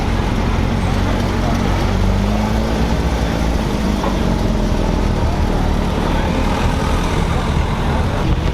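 A white Porsche GT3 RS with a black carbon bonnet and bronze wheels drives past amid steady, loud traffic rumble, its engine noise blending into the continuous low road din at a car meet.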